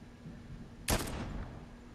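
A single loud gunshot from a weapon in the video game Fortnite, a sharp blast that rings out and decays over about half a second, over a low hum of game ambience.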